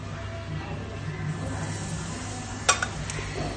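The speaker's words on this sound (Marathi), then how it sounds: "तेल गरम झालं ना, त्यामध्ये किंचित थोडीशी हळद टाकणार आहे" A small amount of turmeric sizzles in hot oil in a kadhai with a steady close hiss, interrupted once by a sharp metallic clink of a utensil against the pan.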